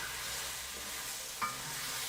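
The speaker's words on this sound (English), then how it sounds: "Alright, I'm gonna add my beef back in." Beef goes back into a pot of soup and is stirred, giving a soft continuous bubbling and sizzling hiss with a single sharp clink of a utensil against the pot partway through.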